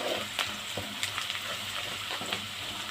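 Spices and onions sauté in a pan with a steady, close crackling sizzle. Small pops and clicks are scattered through it, and no voices are heard.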